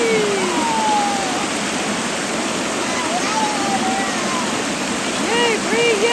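Loud, steady rush of a waterfall at a lake, a constant broadband roar close by, with faint high whistling tones drifting over it.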